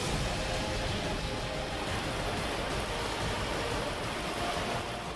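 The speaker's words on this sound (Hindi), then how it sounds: "जहां मूसलाधार बारिश ने जिंदगी की रफ्तार पर ब्रेक लगा दी" Torrential downpour over Bharuch, a steady dense hiss of heavy rain without a break, loud and close, with no voices.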